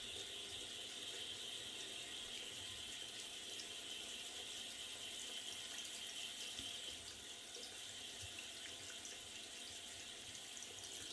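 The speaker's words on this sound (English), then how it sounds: "So today you're just gonna have to listen to me rinse my stuff." Yaqi Katana SE safety razor and shaving gear rinsed under a running tap, a steady broadband rush of water lasting the whole stretch with small clinks and rattles of metal parts, close and continuous with no talk.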